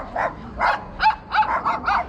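Dogs bark in a quick series of about six sharp, close barks at an uneven rhythm, fairly loud, with no talk over them.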